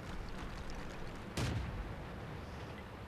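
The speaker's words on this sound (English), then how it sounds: "And the customary guy that fires the shot before the battle begins." In the World of Tanks game, a tank gun fires a single muffled boom before a battle begins. It stands out briefly over a steady, noisy background hum.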